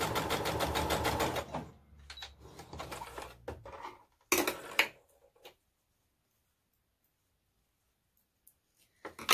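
Sewing machine stitching quilt fabric corner to corner, a fast steady mechanical stitching run at the start that slows and stops, followed by a brief clatter and near silence.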